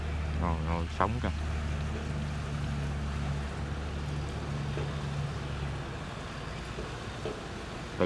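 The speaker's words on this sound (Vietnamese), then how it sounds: "Từ xa thôi mình nghe cái tiếng động cơ của cái máy sáo này các bạn" A barge's large outboard engine with a custom propeller drones steadily at a distance, low and continuous, with faint voices and water noise around it.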